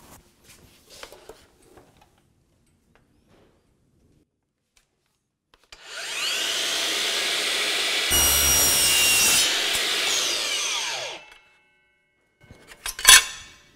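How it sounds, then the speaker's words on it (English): A hand saw cuts through thin sheet material, worked like wood, for a router bit storage case: about five seconds of steady rasping strokes in the middle, close and clear, preceded by quiet handling and followed by brief knocks. "Just go ahead and cut it exactly as you would wood"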